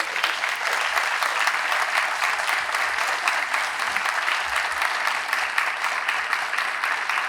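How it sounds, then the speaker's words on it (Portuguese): Steady applause from a seminar audience on international foster care, dense and even throughout, a broad wash of many hands clapping at moderate distance with no speech over it. "Vamos aplaudi-los."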